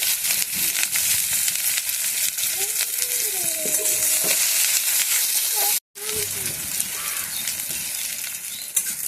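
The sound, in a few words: chopped onion and green chilli frying in hot oil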